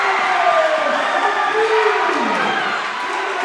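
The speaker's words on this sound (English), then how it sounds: "Fans on both sides cheering on their teams." Basketball fans in the stands at a boys' high school state sectional game cheer steadily, a loud continuous crowd roar with scattered shouts filling the whole stretch.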